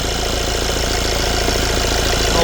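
A Mini's engine idles loudly and steadily, close up, with a dense even rumble and a faint rhythmic knock. The car has a turbo pressure sensor fault and particulate filter codes 480A and 481A.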